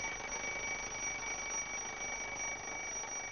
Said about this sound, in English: the sound of the alarm gets quieter